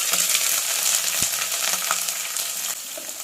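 Onions sizzle loudly and steadily in hot oil for a chicken curry, a dense, close frying hiss with faint stirring scrapes underneath.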